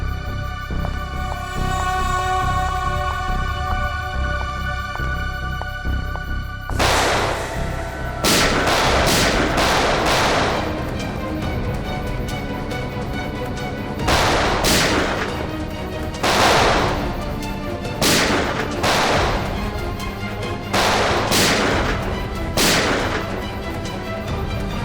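Gunfire in a Tamil CID crime drama scene: after a sustained tone, sharp shots crack out in quick clusters and single reports, loud and echoing through roughly eighteen seconds.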